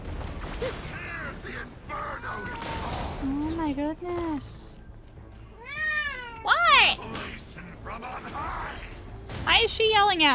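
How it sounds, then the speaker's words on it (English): A cat meows loudly and repeatedly in drawn-out, rising-and-falling yowls, close and insistent, with a person talking over and between the cries. "Why is my cat yelling at me?"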